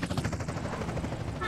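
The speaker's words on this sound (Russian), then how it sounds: "Сейчас сверху вертушка летает." A helicopter thumps overhead in a video game, a steady rotor drone with rapid pulsing chop, moderately loud under faint voice chatter.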